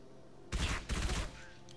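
Suppressed gunfire in the Halo 3: ODST video game: a muffled burst of rapid shots starting half a second in, two dense clusters over about three quarters of a second, then fading into a quiet game background.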